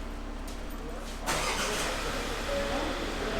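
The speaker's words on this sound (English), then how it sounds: "Okay, first time starting the car." A BMW 220d M-sport diesel car engine starts up, the quieter cabin giving way at once to a steady, louder diesel run with broadband noise, and voices murmur faintly under it.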